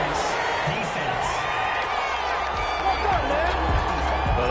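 A football stadium crowd reacting angrily to a pass interference call, a broad sustained roar of booing and shouting with scattered whoops, heard under commentary talk.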